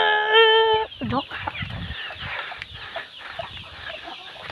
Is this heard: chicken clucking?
yes